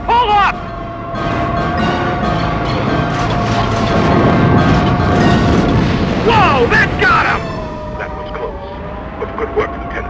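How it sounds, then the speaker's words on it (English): Heavy booming blasts from an air attack in a Star Wars video game rumble continuously and loudly, layered with whining engine and siren-like tones, then drop away to quieter sweeps near the end. "Preparing to launch an air attack"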